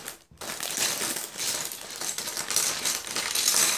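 Loose plastic pieces of a knockoff LEGO Minecraft snow hideout set rattle and clatter steadily as the package is opened, close and continuous with no talking.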